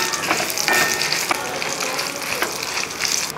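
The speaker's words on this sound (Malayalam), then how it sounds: "അപ്പം നമ്മുടെ മുളകൊക്കെ ഒന്ന് മൂത്ത് വരുന്നുണ്ട്" Dried red chillies frying in hot oil in a pan for a Kerala-style raw mango dish, a bright continuous sizzle broken by several sharp scraping strokes of a spoon stirring them, close and loud.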